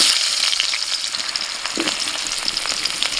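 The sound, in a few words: potatoes frying in a pan with salt and turmeric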